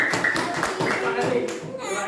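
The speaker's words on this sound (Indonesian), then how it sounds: "Beri tepuk tangan." Children applaud a classmate's group presentation in a primary school classroom, a steady burst of many hands clapping together, close and loud throughout.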